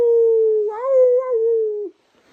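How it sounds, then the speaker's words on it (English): A dog gives one long, steady howl that wavers slightly in pitch, then trails off into silence, loud and close with no talk over it. "Howling for his daddy."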